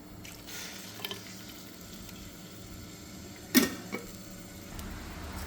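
Garlic and cherry tomatoes fry in a pan with a quiet, steady sizzle, broken by a brief clatter just past the halfway point and a smaller knock soon after.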